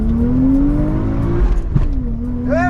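A stock road car accelerates hard up the Santa Pod drag strip, its engine note climbing steadily in pitch, then briefly dipping at a gear change before rising again, loud and close throughout.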